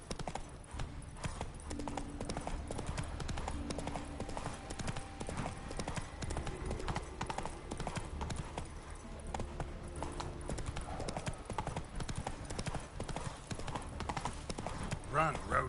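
Roach the horse galloping in The Witcher 3 video game, a steady rapid clip-clop of hooves running throughout at moderate volume, with talking and game sounds over it.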